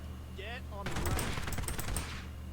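A rapid burst of gunfire rattles off in quick succession for about a second, preceded by brief speech, in the video game POSTAL Redux.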